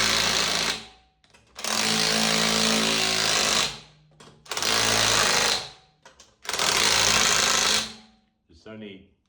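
An impact gun tightening a locking wheel nut on a Vauxhall Mokka, three loud sustained rattling bursts separated by short pauses, close up, ending with a brief clatter.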